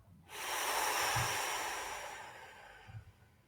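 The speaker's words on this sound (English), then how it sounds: "I'm going to breathe in and then breathe out" A single deep breath is taken in and then slowly let out, a loud, close, airy rush that swells and fades over a few seconds, with no talking.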